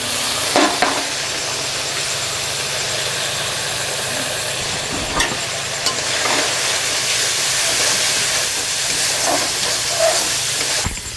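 Ground pepper, cumin, coriander and turmeric powders go into a hot pan of oil, giving a steady loud hiss and sizzle with a few sharp clatters of utensils along the way.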